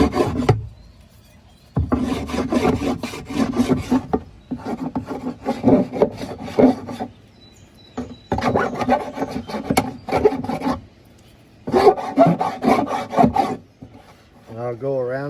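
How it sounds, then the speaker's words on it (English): A hand file rasps burrs off the freshly sawn edge of a plastic piece, with the cut edge slightly melted from the saw blade's heat. The strokes come close and loud in repeated bursts of about two seconds each, separated by short pauses. "And then I just take a file"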